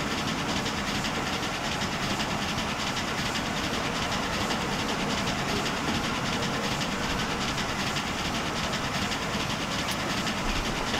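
In the game Transport Fever, a train rolls steadily along the track with a continuous low rumble and faint rhythmic clatter, fairly quiet and even, with no talk.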